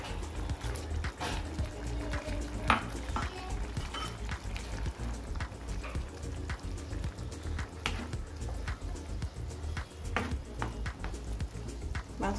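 Fried paneer cubes go into a hot pan and sizzle steadily, a continuous crackling frying sound with small pops and stirring scrapes throughout.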